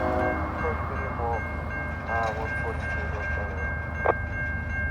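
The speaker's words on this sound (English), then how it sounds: "The front of the train just went past the defect detector." A CSX freight train rolls past a trackside defect detector on a curve, a steady nearby rumble of wheels and cars with faint squeals and a short sharp screech.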